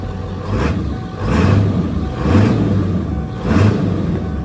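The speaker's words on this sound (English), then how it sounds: "Give her a little rev." A Ford OBS truck engine revved several times, each rise in low rumble swelling and easing back in a steady rhythm, close and fairly loud.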